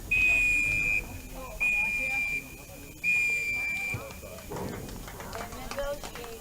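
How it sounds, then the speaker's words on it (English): Three long, sharp referee whistle blasts at a high-school soccer match, each about a second, spaced evenly and loud over crowd chatter and distant voices, followed by scuffling and footfalls on the field. "Got the 3 whistles."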